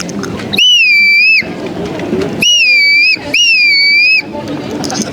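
A person whistles three clear, slightly wavering bird-like notes imitating a golden plover call at a medieval fantasy festival in Toulouse, with quiet murmur between them.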